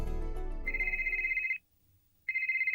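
An IP phone rings with an incoming call from the space station, giving two bright electronic trill bursts separated by a short silence, close and clear.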